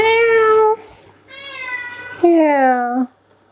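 A cat meows three times in drawn-out, rising and falling calls, close and fairly loud, with short pauses between them.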